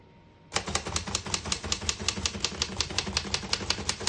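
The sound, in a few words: 1940 Remington Model 5 portable typewriter keys typing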